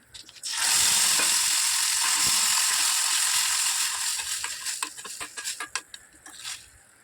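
Chutney tipped into a hot fried tempering, a sudden loud burst of sizzling that holds steady, then eases into uneven spattering and scraping stirs.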